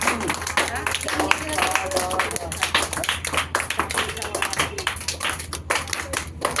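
A small group clapping for Prince at an award presentation, a brisk uneven patter of hands close by, with voices talking over the clapping throughout.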